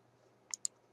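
A computer mouse clicks twice in quick succession, faint and close against near silence.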